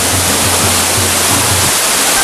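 Tiu Gransing waterfall in Gumantar village roars loud and steady, a dense wash of falling water close by with no other sounds.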